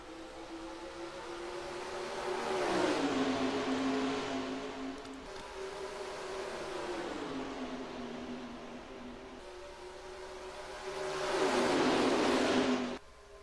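Racing stock car engines in NR2003 roar up through the gears at a restart at Homestead, with rising and dropping drones as cars accelerate and shift, swelling loudest near the end.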